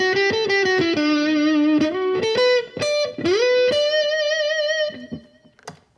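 A Gretsch G5655TG electric guitar with heavy distortion, played on the neck pickup, plays a short run of sustained, buzzing notes and bends, then rings out and fades to a few scratchy taps.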